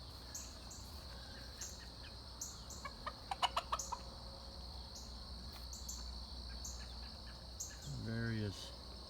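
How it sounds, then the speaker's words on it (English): Chickens in a fly pen outdoors, several close clucks and a clear crowing-like call near the end over a constant chorus of crickets and insects, with faint background sounds. "Various chickens in there."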